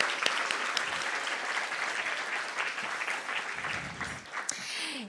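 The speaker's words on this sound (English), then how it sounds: "let's give a round of applause for that" A hospital awards gala audience applauds loudly and steadily, a dense crowd of clapping hands that thins and fades near the end.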